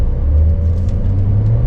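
A Porsche 911 Carrera Cabriolet (992) cruising on the highway, with a steady low engine and road rumble and no talking over it.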